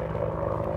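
Medevac helicopter arriving, a steady loud rotor and engine drone with a rhythmic low chop, close and continuous throughout the short stretch with no talk over it.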